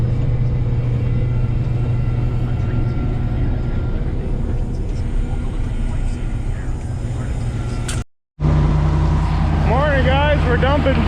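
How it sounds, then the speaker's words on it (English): Dump trucks unload their loads on a muddy work site with a loud, continuous heavy-engine rumble. The sound cuts out briefly, then the roar returns with some whining, squealing tones on top. "We're dumping trucks right now."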